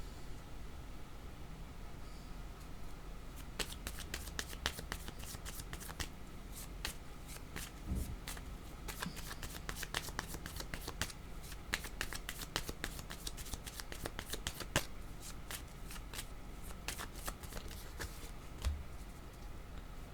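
Cards for a card reading being shuffled: continuous fast riffling and flicking of cards, close and fairly quiet, with no voice.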